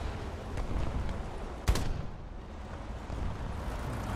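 Single sharp cannon shot from a Toldi IIA light tank in War Thunder, loud and brief, rising over a low rumbling engine and battlefield ambience.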